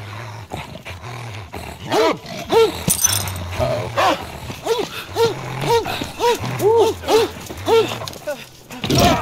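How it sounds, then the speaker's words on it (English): A dog in the video game As Dusk Falls barks and growls loudly in repeated bursts, rising snarls mixed with deep rumbles, while a voice talks over it. "Just got like destroyed by a dog in the right beginning."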